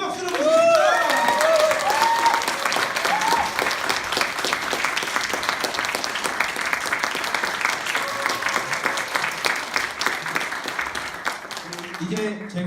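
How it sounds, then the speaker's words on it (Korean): A crowd at a briefing session on the corruption investigation office gives sustained applause welcoming lawmaker Jeon Hae-cheol, a dense steady clatter of many hands with cheers and voices over it at the start. "큰 박수로 모십니다"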